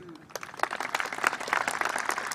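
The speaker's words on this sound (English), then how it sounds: "a big round of applause to the class of 22" An audience at a 2022 alternative-education high school graduation ceremony breaks into applause for the graduating class, scattered claps quickly building into a brief, fairly loud round.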